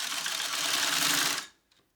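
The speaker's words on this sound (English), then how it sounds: "I'm going to place these together and give it a stitch." A sewing machine stitching pieces of a wallet together runs in one steady close buzzing burst for about a second and a half, then stops, with a faint click after.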